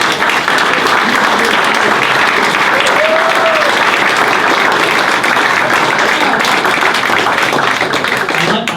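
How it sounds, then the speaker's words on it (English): Loud, sustained applause from an audience at a Science on Tap talk about the mountain pine beetle, dense and continuous clapping filling the room, close and unbroken throughout. "I like that I didn't even have to ask for a round of applause."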